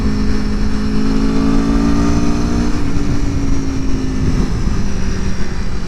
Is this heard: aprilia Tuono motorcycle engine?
yes